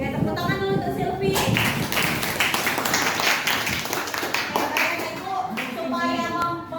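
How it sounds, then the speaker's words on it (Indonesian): Classmates clap for Silvi in a classroom, a lively patter of applause with voices and chatter underneath. "tepuk tangan dulu untuk Silvi"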